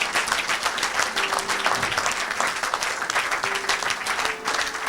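A church congregation at a live service applauds and cheers, a steady, loud wash of clapping from many hands that continues throughout.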